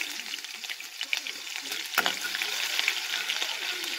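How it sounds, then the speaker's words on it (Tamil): Mustard seeds, green chilies and a piece of ginger crackle and sizzle in hot oil for poha upma, a steady dense frying hiss with faint pops and a stirring scrape near the middle. "கடுகு நல்லா பொரியுது"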